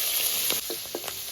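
Cumin seeds and slit green chili sizzle in hot oil for a bottle gourd dish: a close, steady frying hiss with scattered crackling pops and no voices.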